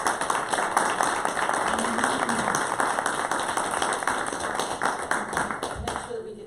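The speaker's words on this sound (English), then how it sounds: "big round of applause for this" Close, loud clapping from a small audience at a town board meeting in Mead, with scattered distinct claps and low voices murmuring underneath, continuing for several seconds.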